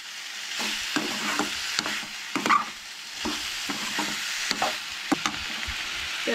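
Onion, tomato, ginger and garlic sautéed dry without water for Goan chole, a continuous low sizzle overlaid by repeated spatula scrapes and knocks at an uneven pace, near and moderately loud, no voices.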